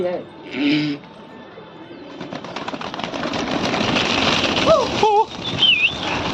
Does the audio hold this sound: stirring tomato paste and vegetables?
no